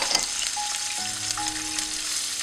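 Ginger frying in hot oil in a pot, a steady close sizzle with faint stirring clicks near the start and no voices.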